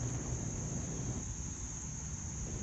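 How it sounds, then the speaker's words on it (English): Crickets chirp steadily in the background beside an outdoor swimming pool, a constant high, faint squeaky trill that continues alone with no talking. "The squeaky sound that you hear in the background are the crickets."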